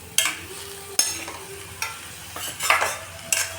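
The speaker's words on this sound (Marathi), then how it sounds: "आणि तोंडलीला छान असं मसाल्यात मिक्स करायचं." Ivy gourd being stirred through masala in a pan, with a run of distinct scraping and clattering spoon strokes roughly every second over a faint, steady sizzle.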